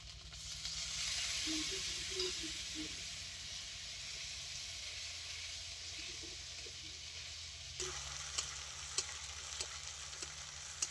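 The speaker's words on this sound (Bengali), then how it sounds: "মশলাটা খুব ভালো করে কষানো হয়ে গেছে" Spice paste with turmeric and a little water frying in a pan for gima greens, a steady low sizzle with faint stirring scrapes and a few sharper clinks near the end, no voices.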